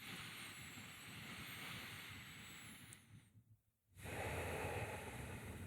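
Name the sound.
slow deep breathing through the nose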